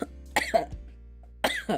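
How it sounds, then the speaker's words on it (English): Two short clusters of dry coughing from one person, close by and fairly quiet, with a brief pause between them. "God, this cough does not want to leave me."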